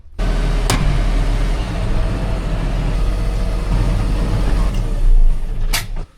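A tractor engine drones steadily and loudly throughout a farm journey, with a low, even rumble, a couple of brief sharp clicks, and a slight swell near the end.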